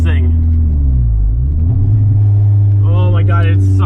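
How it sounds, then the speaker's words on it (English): A VW Mk3 Golf engine with a broken exhaust rumbles loud and close, a deep steady drone that shifts in pitch, with a voice talking over it near the end. "I haven't fixed the exhaust yet because I've been lazy, honestly, but it just got, oh, it got so much louder."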